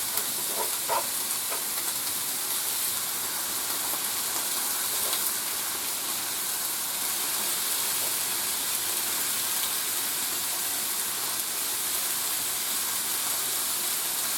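Onions and garlic sauté in a skillet, a loud, continuous hiss and sizzle of frying that holds steady for the whole stretch, close up and alone.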